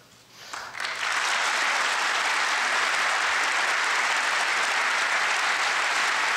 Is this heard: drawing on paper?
no